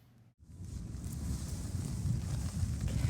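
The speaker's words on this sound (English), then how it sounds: "It's a little windy out." Wind gusting outdoors, a steady broadband rush of wind buffeting the microphone that starts after a brief drop and grows a little stronger, with a low rumble underneath and no talking.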